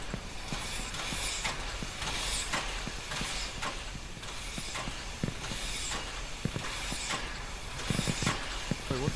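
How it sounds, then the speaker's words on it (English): Train in the video game Only Up, a steady rumbling rail noise with hissing bursts and faint clanks repeating throughout, moderately loud with no talk. "Can I get on the train?"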